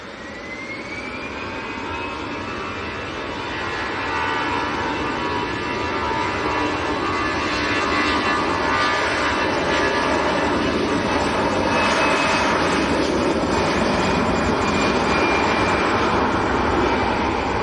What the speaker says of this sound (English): EasyJet to Lisbon, Airbus A320.